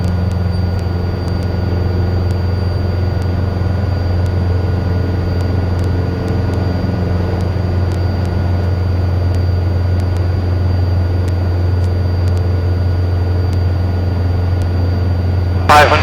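A light aircraft's engine and propeller drone steadily and loudly from inside the cabin as it climbs after takeoff, a constant low hum with a faint high tone running throughout.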